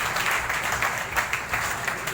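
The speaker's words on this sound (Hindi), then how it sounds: "इन सब के लिए इतनी तालियां बजाएं मेरी तरफ से" Audience applause at a gathering in Hyderabad, a brief burst of many hands clapping with slightly uneven, pulsing loudness and a faint murmur of voices beneath.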